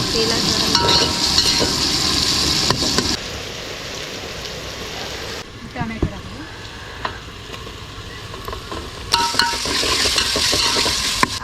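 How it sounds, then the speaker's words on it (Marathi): Chopped onions sizzle loudly in a hot pan for a coastal-style chicken dish, with a spoon stirring and scraping through them in bursts over a constant frying hiss. "पहिलं कांदा टाकून घ्यायचा याच्यात एक साधारण लालसर होईपर्यंत"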